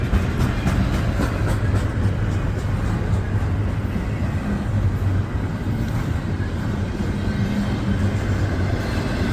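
Long Norfolk Southern freight train rolling steadily past at close range, a loud continuous rumble of wheels and railcars with faint clatter, no talk.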